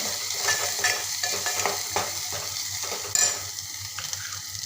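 A spoon stirs red chilli powder, coriander powder, turmeric and salt in a hot pan, making soft, repeated scraping strokes over a low steady sizzle. One sharper clink of metal comes near the end, and no one speaks.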